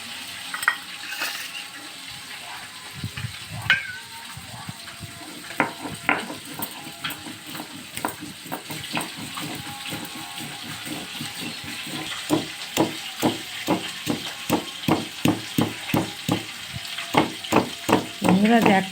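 Mustard seeds, onion and dried red chilli ground into a paste, with rhythmic scraping strokes repeating steadily and growing louder and quicker toward the end, close by with light background noise.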